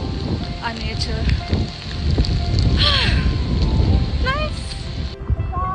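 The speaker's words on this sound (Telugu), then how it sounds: "వర్షం పడుతుంది." Rain falls steadily at a hilltop view point in Gajuwaka. It makes a continuous hiss with a rumbling low end, while a voice speaks briefly over it and birds chirp intermittently.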